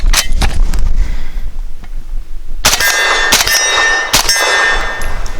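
A Definitive Arms AKX-9 fires 124 grain subsonic American Eagle suppressor ammunition, giving a run of loud, close, clanging shots with metallic pings and ringing over constant background noise.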